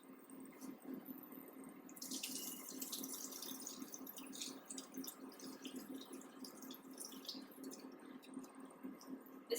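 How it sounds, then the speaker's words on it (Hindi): Water pours and trickles as soaked rice is drained for chicken biryani, a steady splashing stream with a brief louder gush early on, moderately close, no voices. "अब इसको मैं पानी को ड्रेन कर लेती हूँ और लेके आती हूँ यहाँ पर।"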